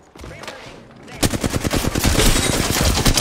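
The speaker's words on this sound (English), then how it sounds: "Firing. Taking fire." Rapid automatic gunfire in the Halo video game crackles loud and close, with a few scattered shots first and then a dense, sustained burst. A player's voice is heard briefly under the shooting.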